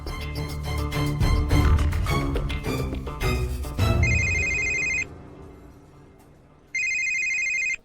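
A phone ringtone chirps in two bursts with a pause between, following a stretch of busy music and clatter.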